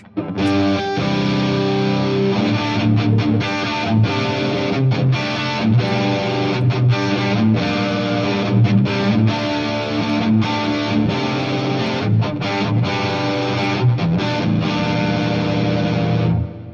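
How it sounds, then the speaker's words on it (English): Electric guitar played through a Riot distortion pedal into the clean channel of a Marshall DSL100H amp, sustained saturated chords with rhythmic chugging breaks, loud and continuous with no talking. "now I try the Riot distortion. Same channel on the DSL, no driven channel, just a clean channel with the Riot"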